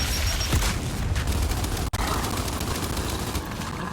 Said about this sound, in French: Attention à l'explosion!